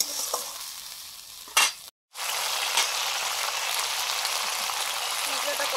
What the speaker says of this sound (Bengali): লবণ, জল দিয়ে মশলাটা কষে নিচ্ছি।